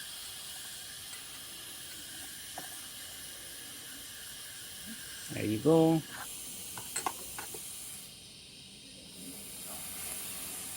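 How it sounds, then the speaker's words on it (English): A short hiss of steam bursts from the wand of a 1973 La Pavoni espresso machine, faint and close, with a few small clicks after and a brief spoken comment before the room falls quieter. "We're gonna be releasing a little bit of steam because I don't like it to be too hot."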